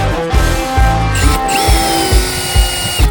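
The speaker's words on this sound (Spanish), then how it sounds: "Esto vale 5 euros y convierte tu taladro en una caladora" A power drill fitted with a cheap five-euro jigsaw attachment cuts wood with a loud, harsh whine, broken by rhythmic thumping pulses of the vibrating blade.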